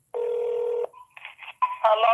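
A telephone tone sounds steadily for under a second, followed by brief phone beeps and a voice answering on the line, close and clear.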